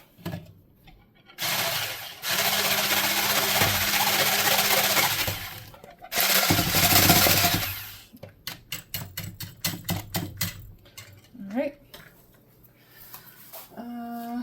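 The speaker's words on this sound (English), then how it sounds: "All right, so we're gonna whisk." Cupcake batter whisked by hand in a bowl, a steady dense scraping rush lasting several seconds, broken by pauses, then quicker rhythmic clicking strokes and clattering near the end.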